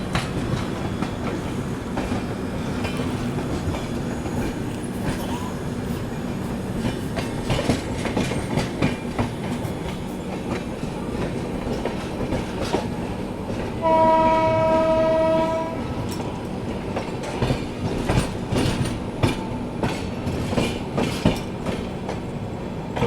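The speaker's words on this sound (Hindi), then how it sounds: "विभूति एक्सप्रेस ट्रेन और हम लोग की उड़ीसा संपर्क क्रांति दोनों एक साथ चल रही है" The Odisha Sampark Kranti Express rumbles along the rails beside the Vibhuti Express, with a steady roar and rhythmic clickety-clack of wheels, and a loud horn sounding for a couple of seconds partway through.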